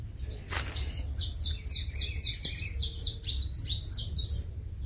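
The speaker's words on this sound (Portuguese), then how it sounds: "E o canto dos passarinhos." Birds chirp in quick repeated high notes, a lively song close by in a garden with banana plants, over a soft low background hum.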